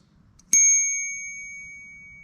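A small Knog bell on a gravel bike gives a single bright ding, close and clear, ringing out with a long fading tone over quiet background.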